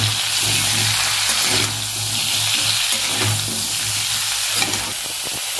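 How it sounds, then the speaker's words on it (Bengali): Cauliflower florets with turmeric and salt fry in a pan as part of a Bengali fulkopi chingri rosa, giving a steady, close, loud sizzle with occasional stirring scrapes and no talking. "ভালো করে নেড়ে ফুলকপিটা আগে একটু ভেজে নেবো।"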